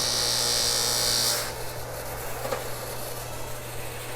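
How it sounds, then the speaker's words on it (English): A high-speed buffer with blue polishing compound works scratched motorcycle windshield plastic, giving a steady close whine and rubbing hiss that drops to a quieter hum partway through, with no talking. "we've got some blue polishing compound and a pretty high-speed buffer"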